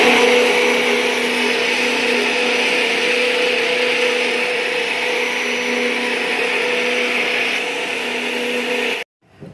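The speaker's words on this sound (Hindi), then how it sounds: "ये रही मलाई, इसमें मैंने पानी डाल दिया है और ये ब्लेंडर चालू कर दिया" An electric blender churns cream mixed with water to make butter, a loud, steady motor whine that holds constant before cutting off abruptly near the end.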